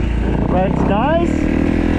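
A 2015 Kawasaki KX250F dirt bike engine idles steadily nearby with a throaty, even putter while a person talks over it.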